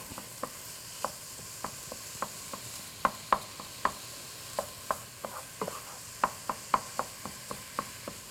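Ground turkey sizzling in a pan while a spatula breaks it up, producing a quiet sizzle beneath a regular series of sharp tapping chops, roughly two to three per second.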